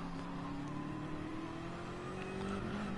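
Race cars starting the Bathurst race in a racing video game, with engines droning and revving together in a steady, slowly rising hum at moderate level.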